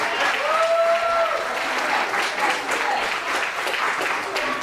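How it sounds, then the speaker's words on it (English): Steady applause from a wrestling show audience fills the whole stretch, dense and sustained, with a few whistles and shouts rising through it. "You can applaud that, go ahead."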